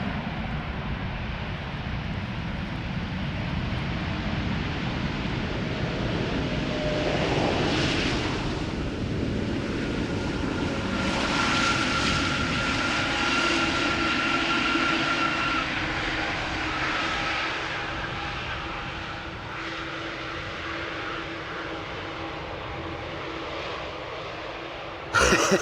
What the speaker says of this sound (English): Air Canada flight 808. 7879 Dreamliner arriving from